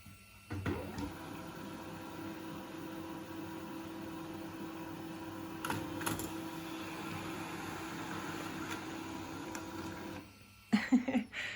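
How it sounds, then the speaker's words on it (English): An office printer runs over an inkjet-printed sticker sheet, adding a stamp layer for gold-foiled planner stickers. It gives a steady, close mechanical whir for about ten seconds, with a few clicks and clunks at the start and end. "now I'm printing the stamps on top of this, so on top of the inkjet print."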